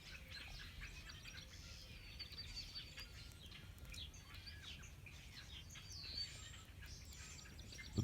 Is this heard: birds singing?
yes